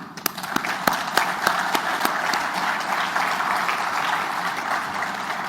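Audience applause for the Wali of Oran at the inauguration of the Fiat Algeria factory, a continuous crowd clapping with a few sharp individual claps standing out near the start, steady and fairly loud throughout.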